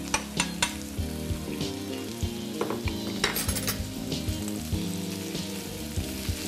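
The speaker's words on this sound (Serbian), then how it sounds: "I dalje pržimo povremeno miješajući dok meso ne postane zrnato." Minced turkey meat frying with onions in a pan makes a steady, close sizzle, with regular clinks and scrapes as it is stirred.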